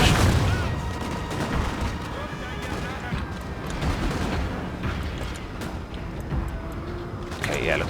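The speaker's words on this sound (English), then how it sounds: "Let's use a barrage. I think we should do some damage." Artillery barrage in Napoleon: Total War during a Prussian campaign battle: continuous booming cannon fire and rumbling impacts fill the scene, dense and loud throughout with no pauses.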